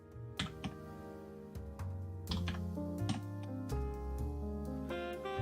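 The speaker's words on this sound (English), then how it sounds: "I'm just typing, making up a word as I'm typing." Fingers type quickly on a computer keyboard in uneven runs of close, crisp keystrokes, with a few louder taps and a constant low hum underneath.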